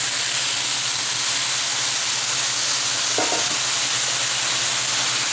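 Top sirloin beef sizzles loudly and steadily in a hot pan, a constant hissing fry that fills the whole stretch, with a faint brief clink partway through.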